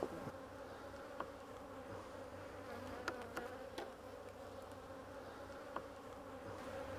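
Honeybees swarm around an open beehive, a continuous close hum with a steady droning pitch, individual bees whining past now and then over the dense buzzing, and no talking.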